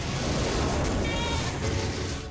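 Goats bleating steadily and loudly in a flock outdoors at a farm, overlapping calls forming a dense continuous chorus with a voice talking underneath.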